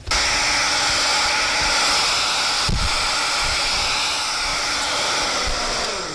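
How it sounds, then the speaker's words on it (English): A hair dryer roars close and constant while blow drying natural hair, with a brief bump partway through and no speech. "As you see, I'm finished blow drying."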